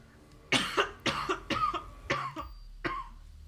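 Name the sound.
person coughing with a cold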